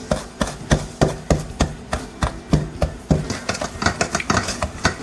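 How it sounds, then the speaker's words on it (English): A pastry blender works light brown sugar into flour in a bowl, producing a fast, regular run of scraping, chopping thuds against the bowl, close and fairly loud, with no talking over it. "Now you want to break all of the sugar using with a pastry blender into the flour."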